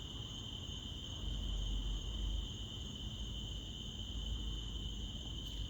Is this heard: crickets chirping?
yes